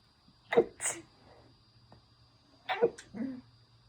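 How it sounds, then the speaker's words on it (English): Two sneezes, close and fairly quiet, a couple of seconds apart, each with a sharp intake and burst, set against a faint steady hum. "I'm gonna sneeze."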